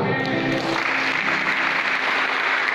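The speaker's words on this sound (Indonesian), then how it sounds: "Tepukkan untuk Tuhan" A church congregation applauds for God after a prayer, a dense, even wash of many clapping hands, loud and continuous for the whole stretch, with a faint voice at the start.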